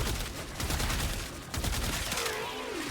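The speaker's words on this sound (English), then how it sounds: "This is shooting them in the face." Rapid weapon fire in the video game Warframe aimed at level 225 Heavy Gunner enemies, a dense continuous barrage of loud shots with bursts of impact noise throughout.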